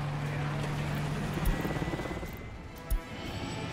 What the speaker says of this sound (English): Launch the helicopter.